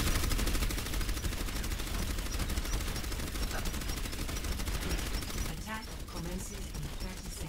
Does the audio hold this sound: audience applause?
no